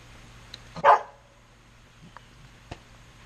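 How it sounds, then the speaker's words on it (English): One short, sharp dog bark sounds out over near silence, with a few faint clicks around it. "literally just barking to mess with me now."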